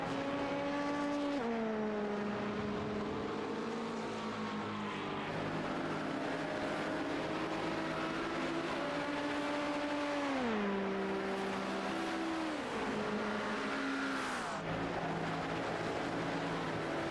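An LMP2 prototype race car on the Le Mans circuit in a 24-hour sim race, its engine droning continuously with rising pitch through the gears and sharp drops on upshifts and braking, loud and steady without pause.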